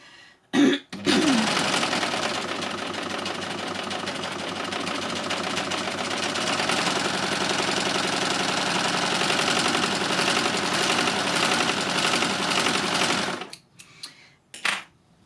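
A LUCIE overlocker by Success stitches fabric in one long steady run, its fast whirring hum loud and close for about twelve seconds before stopping, with brief handling sounds at either end.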